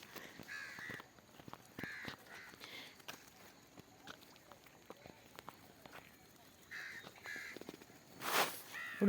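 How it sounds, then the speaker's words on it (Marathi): Crows cawing and splashing as they bathe in irrigation water in a wheat field, with scattered short calls over light rustling and footsteps and a louder burst near the end. "तर इथे कावळे आंघोळ करत आहेत।"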